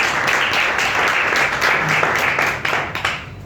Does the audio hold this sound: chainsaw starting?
no